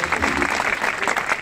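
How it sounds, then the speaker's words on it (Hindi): A crowd at a public gathering claps in a steady, dense burst of applause that carries on throughout the short moment. "जोरदार तालियां।"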